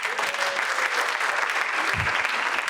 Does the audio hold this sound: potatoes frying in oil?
no